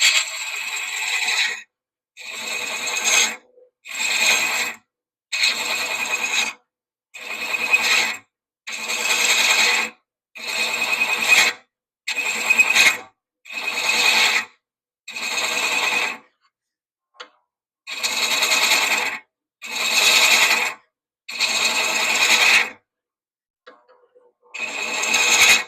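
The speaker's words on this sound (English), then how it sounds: "you're just letting the tool go in the threads" A hand threading tool cuts threads into wood: a series of regular, rhythmic scraping bursts, each about a second long, separated by short pauses. The scraping is close and fairly loud, with no talk.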